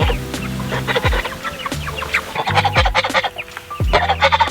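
A batch of small chickens cluck and squawk close by, with repeated low, rhythmic bursts of fowl calls and busy chatter throughout, and no talking.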